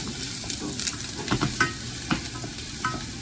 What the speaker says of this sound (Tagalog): Mainit na ang ating oil, ilagay natin ang garlic. Igisa natin.